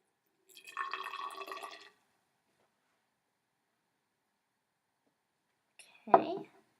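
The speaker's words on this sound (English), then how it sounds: "we're going to measure 10 milliliters of vinegar" Vinegar poured into a graduated cylinder during a vinegar and baking soda lab, a soft trickling pour of about a second, followed after a silent pause by a short, sharper splash or tap near the end.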